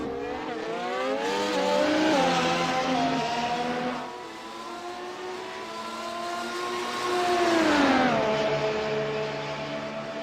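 Race cars on the Monza circuit in the iRacing video game, several engines whining and revving as they close in and pass, pitch swelling and falling in two passes, loud and near.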